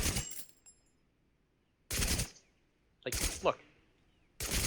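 Sniper rifle shots ring out in the game TABG: four sharp, loud cracks spaced roughly a second apart, with a short spoken remark between them.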